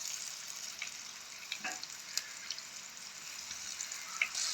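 Plantain slices marinated in masala with curry leaves sizzle and fry steadily in a pan, a soft continuous crackle with occasional small pops and no talking.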